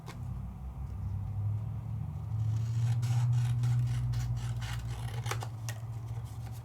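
Scissors cut a piece of paper in half, a close run of crisp snipping and rasping strokes over a low steady rumble, with no voices.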